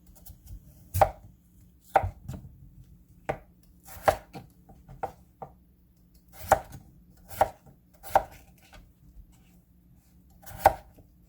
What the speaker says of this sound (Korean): 감자가 큰 감자가 돼가지고 반으로 잘라가지고 4등분 해줍니다.